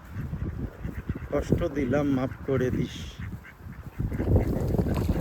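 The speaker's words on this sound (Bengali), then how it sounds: "হাঁসগুলো" Canada geese and wild ducks quack and honk in a noisy flock while a person talks over them.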